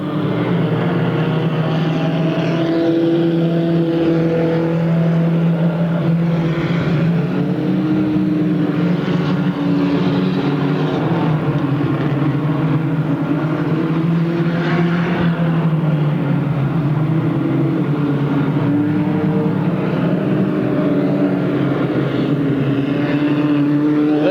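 Stock cars racing at Pearsonville, California during the Turkey Classic, engines droning steadily and loudly throughout as cars work through lap traffic, with a sustained roar that swells and fades.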